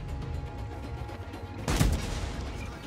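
A single heavy tank cannon shot booms in World of Tanks, a low thud partway through over a steady engine rumble, fairly loud and close.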